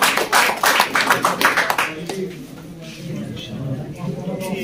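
A crowd at the 2023 All Kashmir Car Cup award ceremony, held by the Kashmir Pigeon Sports Club, claps for award winners. The brisk applause lasts about two seconds, then fades as someone speaks.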